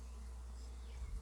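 Honey bees at an open hive buzz in a steady, faint, low drone, a soft swarm hum with no voices.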